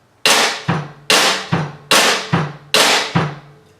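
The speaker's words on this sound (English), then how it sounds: "snare drum is really popping hard, especially if you're using the rim shots." Sharp, cracking snare rim shots alternate with deep bass drum hits in a quick, even pattern, four pairs played loudly with no voices.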